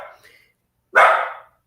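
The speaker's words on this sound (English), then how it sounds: "Beasley, he's barking at the falling leaves." Close, loud single bark from a dog named Beasley who is barking at falling leaves, following a softer brief vocal sound.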